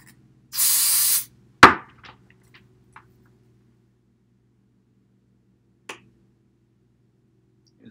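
Freeze spray blasts briefly onto a thermistor on a GWS motor circuit board, one loud steady hiss lasting about half a second, followed by a sharp click and a few faint ticks in an otherwise quiet room.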